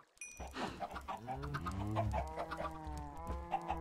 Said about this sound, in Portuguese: Minhas vacas e minhas galinhas lá fazendo barulho.